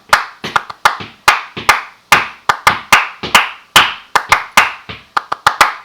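Hand clapping in sharp, separate bursts, roughly twenty claps over about six seconds in an irregular rhythm, loud and close, with no voices.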